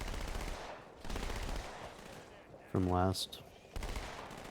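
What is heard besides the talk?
submachine gun firing in the video game Halo 2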